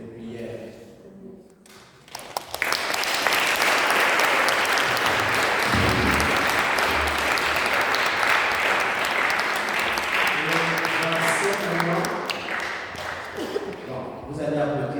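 A church congregation at a Pentecost vigil Mass bursts into applause after brief speech, sustained loud clapping filling the space for about ten seconds before tapering off as a voice returns.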